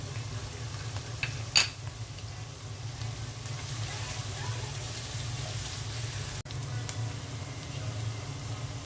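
Onions and garam masala fry in a pan with a constant, moderate hiss over a low hum, broken by one sharp clink early on and a brief cut later.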